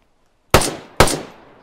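Two sharp gunshots in the video game DayZ, loud and close, fired about half a second apart, each with a short decaying tail.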